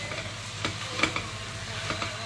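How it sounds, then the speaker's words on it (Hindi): Vegetables with spices being tossed in a pressure cooker, a steady close sizzle broken by a few sharp stirring clinks and scrapes of a spoon against metal, with no talk. "बस इन्हें एक बार एक टॉस दे देंगे इस तरह से ताकि सारे मसाले लग जाएं"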